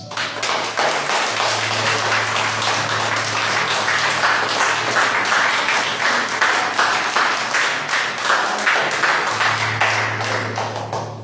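Loud, sustained applause from a large crowd fills the whole stretch, with dense steady clapping and a low hum underneath.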